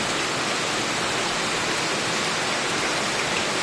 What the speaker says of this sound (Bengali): দেখো কতটা পরিমাণ বৃষ্টি হচ্ছে, বুঝতে পারছো বাইরে